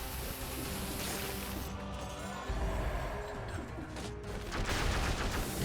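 Turrets firing in the action game Dead Cells, a continuous rattle of rapid shots over a droning game soundtrack, with heavier impacts and crashes toward the end.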